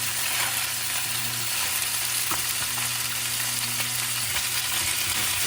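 Salmon pieces fry in a single layer in a pot with a steady, close sizzle and a few faint clicks and stirs, with no talking.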